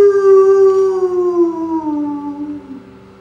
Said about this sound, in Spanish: El perro ladró con furia y luego se entregó a un aullido interminable